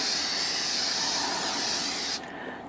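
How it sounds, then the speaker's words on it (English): A steady, hissing aerosol of cooking spray into a bowl, held for about two seconds, then cutting off abruptly, leaving a fainter hiss behind. "I'm going to use my pan spray"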